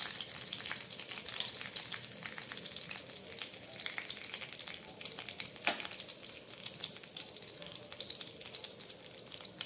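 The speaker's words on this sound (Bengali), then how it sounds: "এইবার এই তেলের মধ্যে আমি দিয়ে দিচ্ছি একটু জিরে ফোড়ন" Cumin seeds sizzling in hot oil left over from frying fish, a steady dense crackle and hiss with scattered pops, close and continuous, no talking.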